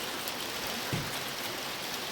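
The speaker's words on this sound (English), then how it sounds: "How do you like that hail out there," Hail falls outside a farmyard where chickens, guineas and ducks are kept, making a steady, dense hiss of pelting ice that stays even throughout with no pauses.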